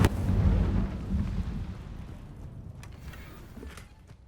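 A deep rumbling burst as the Incendio fire spell is cast in the video game Hogwarts Legacy, loud at the start and fading into a low roar with faint crackles over several seconds.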